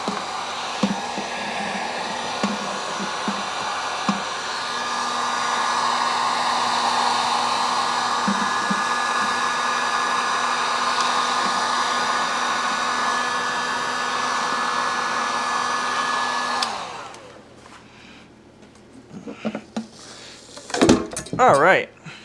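A heat gun blows a steady, loud whooshing roar while warming a stuck part of a Carpet Express C4 carpet steam cleaner motor, then cuts off, followed by a few clattering handling noises.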